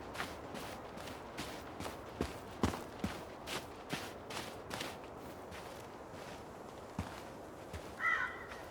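Crows near a house in the adventure game Tell Me Why give sharp, scattered caws over a faint, quiet ambience, with a few soft, uneven clicks and taps between them.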